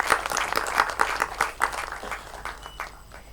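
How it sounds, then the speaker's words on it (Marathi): An audience applauds prize winners at a Marathi one-act play competition award ceremony, scattered claps rising in uneven bursts and then thinning out, moderately distant and fairly quiet. "या सर्व विजेत्यांसाठी आपण टाळ्या वाजवूया"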